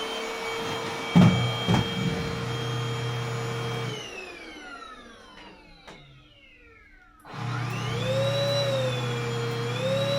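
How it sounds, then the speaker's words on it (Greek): A Lidl Silvercrest cordless battery vacuum cleaner runs loud and close with a steady high whine, spins down into silence as the motor winds off, then starts up again at full power. "Αυτή είναι η σκούπα, παιδιά."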